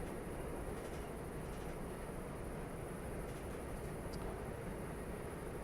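A fast train in the railway simulator game Train Life, a steady low rumble and rolling drone at constant level, with a faint high tone above and no voices.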